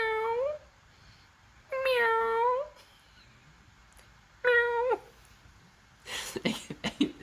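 Three loud, drawn-out cat meows sound as a livestream super sticker effect, evenly spaced and close, followed by a brief rustling burst at the end.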